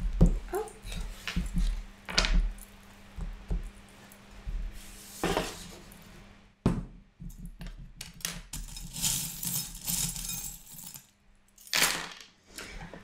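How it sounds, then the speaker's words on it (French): Small metal divination charms handled and dropped onto a surface, giving repeated light clinks and jangles in uneven bursts, close by, with low rustling between them. "on va prendre quelques breloques pour apporter des informations à ce tirage"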